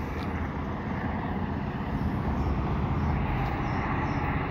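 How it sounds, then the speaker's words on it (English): A Quebec Gatineau Railway QGRY freight train with a Geep leading SD70MAC locomotives at Chabanel passes as a steady, faint, broad rumble with no clear horn or distinct clanks. "I've got a QGRY train here at Chabanel at around 11:30, heading into the city."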